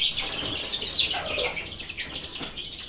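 Small chick cheeping and clucking in a backyard poultry brooder, high thin calls repeating close by in a steady chatter with no talking over them.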